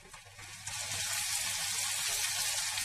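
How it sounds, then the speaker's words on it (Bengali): Masala of turmeric, coriander-cumin powder, chilli powder and ginger powder sizzles in a pan, starting quietly and then swelling into a loud, steady hiss of frying, up close with no talking. "দিয়ে মশলাটা কষাচ্ছি"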